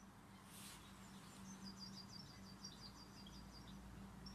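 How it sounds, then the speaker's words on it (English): Faint bird song with a rapid series of high chirps over a low steady hum and background hiss, distant and quiet. "I'm presuming you can hear bird song."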